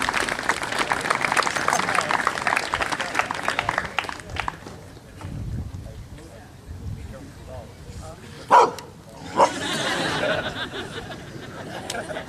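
A dog barks a couple of times at an indoor athletic awards banquet, the sharp barks standing out after crowd chatter and applause.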